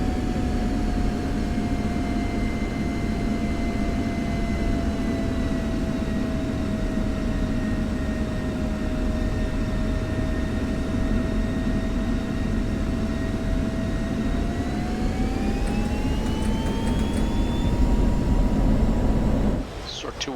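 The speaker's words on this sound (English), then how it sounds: "Sword 2-1, you are cleared for takeoff on runway 28" An F-16 jet engine in the DCS World flight simulator holds a steady loud whine with a broad low roar, then climbs in pitch as it spools up for takeoff, continuous and close throughout.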